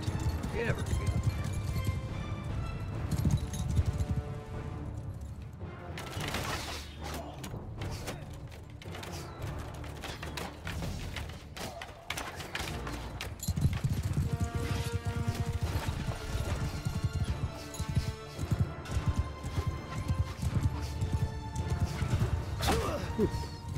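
Cavalry horses gallop in a large battle in the video game Bannerlord, a steady drumming of hooves mixed with clanking armour and crowd noise, dense and continuous over game music while a voice shouts commands.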